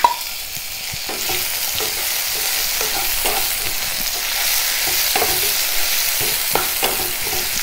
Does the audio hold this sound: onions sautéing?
yes